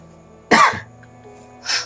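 Two separate coughs from someone with a cold and cough, a strong close one followed by a softer second burst after a pause, in a quiet room.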